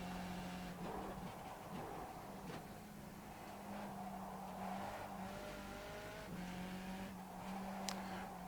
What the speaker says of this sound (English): Poor old engine getting a beating in the downshifts on that corner.